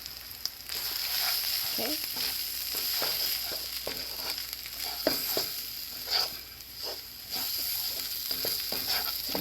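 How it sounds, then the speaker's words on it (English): Chorizo and flour roux for chili fries gently in a pan, a soft steady sizzle with scattered scrapes and taps of a utensil stirring, fairly quiet and close, with a brief word spoken once. "You just want to cook the flour off until it's a little bit brown"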